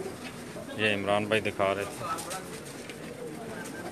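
Sialkoti pigeons coo nearby in low, throaty bursts while someone talks over them, all set against steady background noise.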